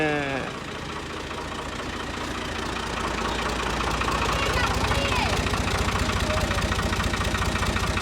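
A tractor engine idles and runs with a steady low, knocking throb that builds slightly and holds loud and close throughout, with faint voices in the background.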